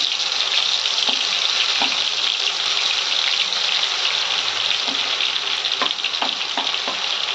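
Chicken pickle paste frying in hot oil while being stirred, a loud dense hiss that runs steadily throughout, with faint spoon knocks and scrapes near the end.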